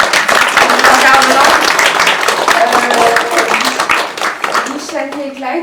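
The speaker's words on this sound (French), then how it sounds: "je vous fais l'applaudissement quand même pour" Applause from an audience for Richani and Clyde at a talk on racism and mental health among South Asians, steady dense clapping filling the whole stretch with a voice speaking over it.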